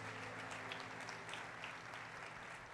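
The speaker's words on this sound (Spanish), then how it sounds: "Denle ese aplauso al Cristo de la gloria." Steady applause from a church congregation during a sermon by Rev. Tulio Riascos, a dense wash of clapping that holds at an even level for a few seconds, with a low sustained tone underneath.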